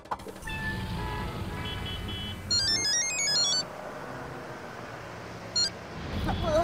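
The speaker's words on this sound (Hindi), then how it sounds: "लाओ फोन पे बात करता हूँ बेना से।" A phone ringtone plays during a call, with bright electronic trilling bursts that repeat in short phrases over a low background hum.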